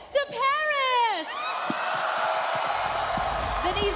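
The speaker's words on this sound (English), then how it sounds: "the crowd is going wild" Esports arena crowd for a Team Liquid Philippines playoff match cheering wildly, a roaring wall of whoops and yells that swells and sustains, opening with a loud rising shout.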